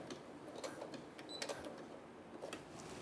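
A sewing machine stitching a satin-lined bonnet with elastic, a faint rapid mechanical ticking and whirring run of stitches, quiet and close, with no speech.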